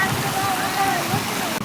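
Stream rushing past at a waterfall, a steady broad watery roar close by with some wind, briefly interrupted near the end.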